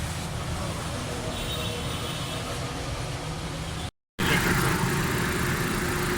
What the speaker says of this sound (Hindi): ये माशाल्लाह गाड़ी स्टार्ट है, बिल्कुल स्टिल है।